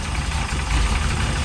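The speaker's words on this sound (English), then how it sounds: "we also need to bump the idle up, because she's idling too low" A 1957 Chevrolet Bel Air engine idles low and rough with a 1-inch spacer fitted, a steady close rumble with a faint knocking pulse running throughout and no voices.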